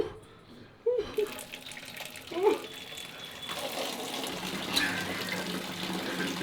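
Shower water streams steadily from a showerhead with only three working holes, a continuous hiss that starts after a second of quiet, with a few brief knocks and handling sounds early on.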